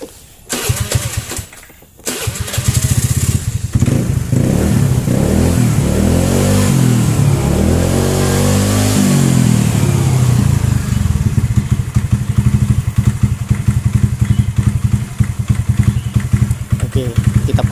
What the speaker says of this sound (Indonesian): Kita panasin dulu motornya